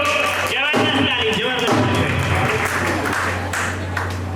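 Audience applause at a business speech, a loud, dense clatter of many hands clapping continuously, with a voice talking over it at first.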